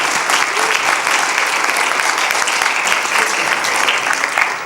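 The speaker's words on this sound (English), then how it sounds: "Let's hear it for Joseph Timmons" An audience at a school spring showcase concert applauds a student, with steady, loud, continuous clapping throughout and no talking.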